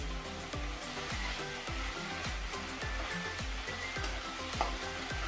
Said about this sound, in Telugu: ఉల్లిపాయలు వేగిన తర్వాత మసాలా వేసుకుంటున్నాను.